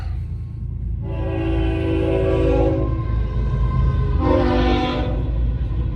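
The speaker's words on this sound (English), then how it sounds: "got caught at this motherfucking train" A train rumbles past nearby with a steady low roar, while its horn blares in two long blasts, the second shorter and brighter.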